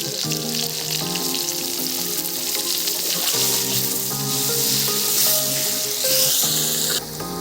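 Potato pieces fry in hot oil with salt and turmeric in a village kitchen, a loud, steady sizzle with bubbling crackle and occasional clinks of stirring, heard up close with no talk.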